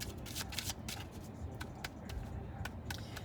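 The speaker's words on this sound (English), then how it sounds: "Still practicing my shuffle." Tarot cards are shuffled continuously, a dense papery riffle with sharp flicks and snaps throughout.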